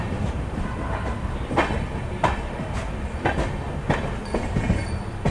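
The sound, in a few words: train departing Jagdalpur, running on rails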